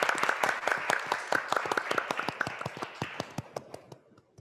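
An audience at a Jeju forum session applauds after the opening remarks. Dense hand claps rattle close in a steady burst, then thin out and fade to a few scattered claps over about four seconds.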